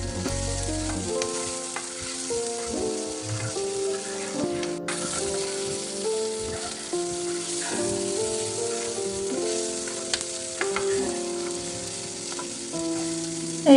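Food sizzles steadily in a pan while being fried for bhorta, with a continuous crackle of frying and occasional scraping stirs, as music plays over it.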